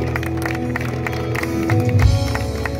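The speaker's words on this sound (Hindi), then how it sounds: "जोरदार तालियों से हम लोग इस मॉडल को" A gathering in Roorkee claps for the unveiling of a housing project model, scattered clapping over steady background music that swells near the end.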